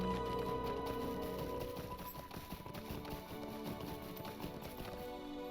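Horse hooves clip-clop steadily in LOTRO as a rider moves along on a regular mount, a dense, continuous patter of hoofbeats over layered in-game ambience and music.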